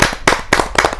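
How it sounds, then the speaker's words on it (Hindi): A live audience claps to welcome a poet at a Hindi kavi sammelan (poetry gathering). The applause comes as dense, close, fairly loud bursts of clapping that rise and fall in quick waves, with no talking over it. "जोरदार तालियों के साथ हम उनका स्वागत करते हैं।"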